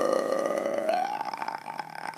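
A voice imitates a tremendous burp at the end of a meal: one long, loud, gurgling belch-like drone that rises slightly in pitch, sustained for about two seconds, close and alone.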